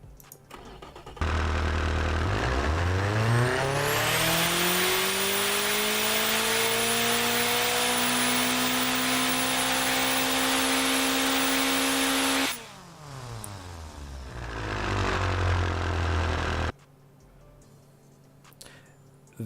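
A heavily boosted 1000-horsepower engine in the car-building game Automation revs loudly, its pitch sweeping up and holding at a high steady whine before dropping back, with turbo-like hiss over a dense harmonic roar, alone without talk.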